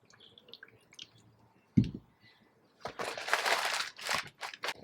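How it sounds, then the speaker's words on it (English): Water poured over newspaper laid in a shallow container during tree transplanting, heard as a soft splash and then a sustained wet rushing and crinkling, fairly quiet and close. "Just gonna pour some water over it."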